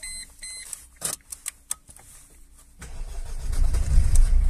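A Mercedes W202 with a weak battery gives several short, faltering cranking bursts and warning beeps. It then settles into a louder, sustained rough engine churn close by.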